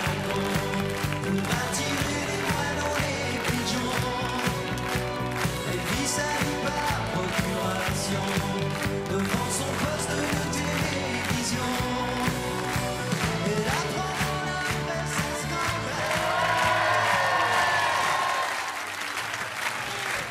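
A French television studio audience applauds warmly and steadily for about twenty seconds, with music playing underneath the clapping.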